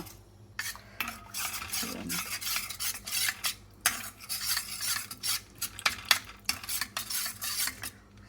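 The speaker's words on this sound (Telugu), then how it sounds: "ఇవి ఉండలు ఏం లేకుండా బాగా కలిపాక అది పాలు మరుగుతుంది కదా" A utensil scrapes and clinks against a pot while milk for fruit custard is stirred, a near, busy run of metallic strokes and rubs with no voices.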